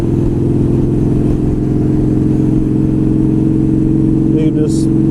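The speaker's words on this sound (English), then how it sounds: "You can just roll the throttle on a little bit and change through gears" A motorcycle with a previously broken bolt drones steadily on the road, its engine humming loud and close under constant throttle, with wind roar throughout and a rider talking over it.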